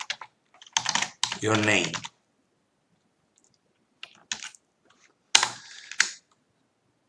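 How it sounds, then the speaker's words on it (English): Short runs of computer keyboard typing come in sparse, separate bursts in a quiet room, with someone speaking briefly between them. "we type the text that we want to show on the screen"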